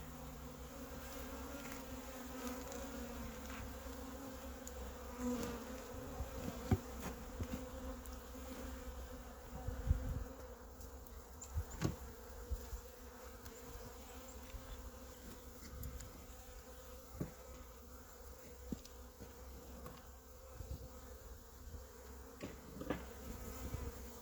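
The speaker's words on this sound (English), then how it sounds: "A lot of these bees are like a month old, and not even." A low, continuous hum of many bees buzzing close by, steady and droning with occasional faint knocks and rustles.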